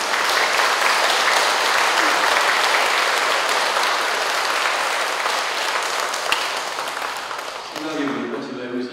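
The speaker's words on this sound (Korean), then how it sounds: "다시 한번 감사의 박수를 드립니다." An audience at an outdoor park Mass at a Catholic church applauds, a dense, steady wash of clapping that stays loud for several seconds before fading out as a voice begins.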